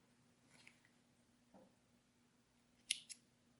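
Scissors snip through crochet yarn in two quick, quiet cuts close by, following a faint rustle of handling.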